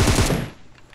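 Automatic gunfire from PUBG Mobile in a squad battle, a loud rapid burst of shots packed into the first half second, then dying away into a faint tail with no voices.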